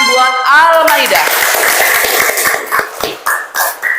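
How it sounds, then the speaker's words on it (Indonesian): A classroom of students claps for a classmate who answered a question, a burst of scattered hand claps following a teacher's speech, thinning into separate claps toward the end. "Coba tepuk tangan buat Al-Maidah."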